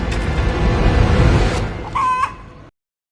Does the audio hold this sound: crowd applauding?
no